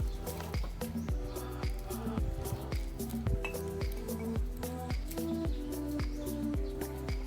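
Glass bottles, including a one-liter bottle, clink repeatedly as they are handled for cutting into fighting-fish containers, with a steady run of close, bright taps and rattles throughout.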